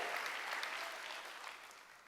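A Sunday worship congregation bursts into applause in the church, a dense, lively clapping of many hands that stays strong, then eases slightly over about two seconds.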